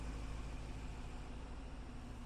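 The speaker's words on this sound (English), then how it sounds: "Let's give it a couple of gentle revs." A 2017 BMW X6 xDrive50i M Sport engine on a cold start, held at a steady low drone with only slight swells from gentle revs, quiet and continuous with no voices.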